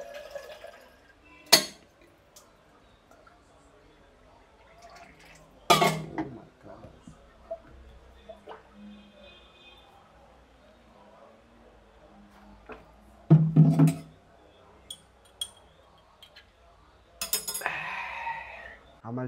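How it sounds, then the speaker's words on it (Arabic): Tea is being made in a cup, with a few sharp clinks of a spoon against glass, a brief pour of liquid and soft handling noises spread across the clip, with some speech in the background. "اعمل لك كوبايه شاي"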